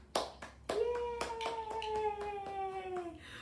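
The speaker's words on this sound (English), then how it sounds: "Can you clap your hands?" A few bright hand claps ring out near and clear amid a children's rhyme game, followed by a sustained sung or cooing voice tone.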